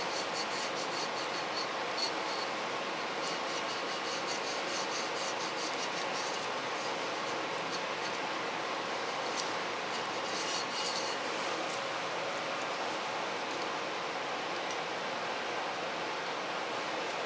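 Steady rubbing and rasping of a rag wiping down the skeg of a classic OMC outboard motor clamped in a vise, continuous and close for the whole stretch with no talk.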